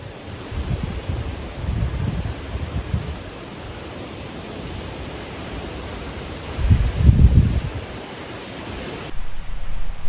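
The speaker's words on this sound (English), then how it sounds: "it is really windy" Strong wind buffets a microphone on an exposed hillside, a steady broadband roar with heavy low gusts that swell and fade, the loudest around the middle, then cut off abruptly near the end.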